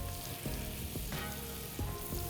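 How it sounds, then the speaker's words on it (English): Butter melting in a hot pan ahead of mushrooms for individual beef Wellington gives a steady, close sizzling hiss with a few faint clicks and bubbling pops throughout. "I'm gonna melt the butter down until it starts to get a little foamy"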